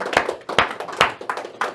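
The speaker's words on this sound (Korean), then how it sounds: "박수 한번 합시다." A church congregation claps during a sermon, a short burst of several sharp, fairly close hand claps coming in uneven rhythm.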